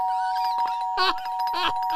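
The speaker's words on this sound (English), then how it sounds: "Get off that doorbell, man." A two-tone ding-dong doorbell rings over and over with a steady sustained chime, loud and close, as someone presses it again and again at the door.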